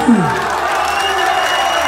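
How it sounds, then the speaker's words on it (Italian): Crowd applauding and cheering along a narrow street during the Nola Lily festival procession of the gigli, a dense continuous wash of claps and voices with a brief whoop near the start. "L'applauso assoluto!"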